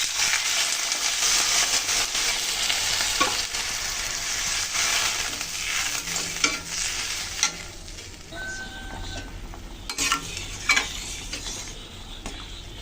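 Fried curry of Malabar spinach and kachki fish, with water just added, sizzles loudly as a spoon stirs and scrapes the pan, the hiss gradually easing with a few clinks near the end.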